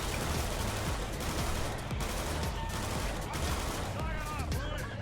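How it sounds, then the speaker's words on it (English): Gunfire in the Left 4 Dead video game comes as rapid, continuous bursts of shots. The dense, steady barrage is loud and close, with game noise filling the gaps between bursts. "As I continuously shoot Daniel"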